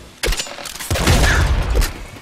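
Bursts of explosive blasts and rapid gunfire from the top-down shooter game Nuclear Throne, a sniper enemy blowing up amid loud, dense, overlapping booms that carry through most of the clip.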